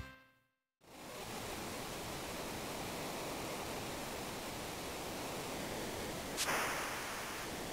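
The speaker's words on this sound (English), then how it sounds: "Oh yeah, down the big waterfall." A big waterfall in the SNES game Final Fantasy VI roars as a loud, steady wall of rushing water after a brief silence, with a sharp bright burst near the end and no voices.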